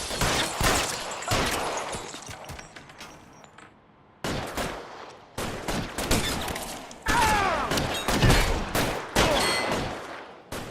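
Rapid bursts of gunfire in an LA Noire shootout: repeated volleys and machine-gun rattles with short pauses between them, loud and close, with a few heavy thuds and no talking.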